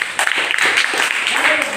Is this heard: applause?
yes